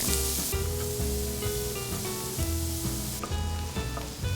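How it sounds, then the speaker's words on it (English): Red onions, green peppers and jalapenos sautéing in a pan, a loud continuous hissing sizzle close up with faint stirring underneath. "We're gonna saute our red onions, green peppers and jalapenos just for a minute or two"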